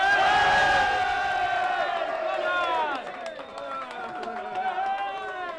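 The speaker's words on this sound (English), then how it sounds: "Tamworth fans, give us a cheer." Tamworth FC supporters cheer together as a loud, close crowd, their voices sustained and wavering in pitch before dropping to a lower, looser roar after about three seconds.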